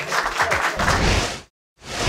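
A short burst of audience applause on a Spanish-language game show, loud and dense for over a second, then a brief silent cut before the clapping resumes.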